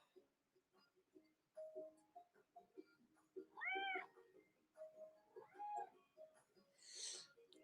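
A cat named Snickers meows twice, clear and nearby in a quiet room, with soft ticking and small rustles between the calls and a breathy puff at the end.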